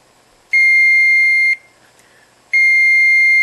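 An Arduino Nano interface circuit drives a piezo beeper that gives two steady, loud electronic tones, each about a second long and separated by a short gap.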